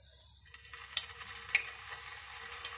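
Chicken koftas fry lightly in a pan of hot shallow oil, giving a steady close sizzle with soft crackles and a few sharper spits and pops, heard alone without any talk.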